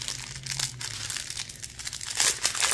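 Plastic bag of diamond painting drills being opened, with close crinkling and crackling of thin plastic, rustling continuously with sharper bursts toward the end, fairly quiet with a low hum beneath.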